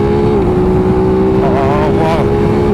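A racing motorcycle accelerating hard down a long straight on track, its engine a loud steady drone that rises in pitch, heard up close from the rider's position with heavy wind noise.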